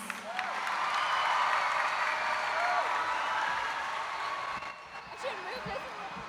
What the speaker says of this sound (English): Please give a round of applause to Dr. Hawkins.